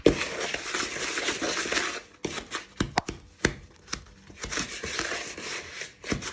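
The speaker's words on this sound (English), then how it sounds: "So you just do a chop action to start it off with, to mash down the margarine" A wooden spoon chops and mashes margarine in a bowl of Easter cake mix, giving steady close crunching and squishing strokes, then a string of sharper separate chops before the rhythmic mashing resumes.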